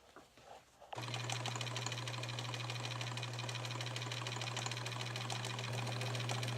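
Sewing machine stitching a decorative stitch, starting abruptly after a second of quiet and then running at a steady, even speed with a constant motor hum and rapid needle chatter, close and alone.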